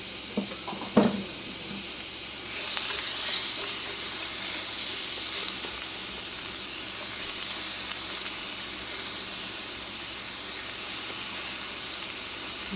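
A tofu scramble sizzles steadily in a hot pan as it browns, a dense, even hiss with a brief clatter near the start, and no talking.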